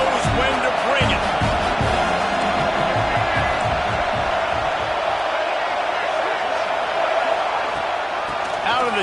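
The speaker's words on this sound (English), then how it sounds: "This crowd knows when to bring it." A college football stadium crowd roars and cheers steadily throughout, a dense, loud wall of voices with scattered whoops, while a play-by-play announcer talks over it.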